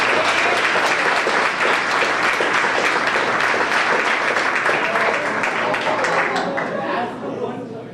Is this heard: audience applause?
yes